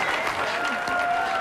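Applause from a bowling crowd after a pro trick shot carrying three 16-pound bowling balls in one hand, a short burst of steady clapping filling the hall under a faint tone.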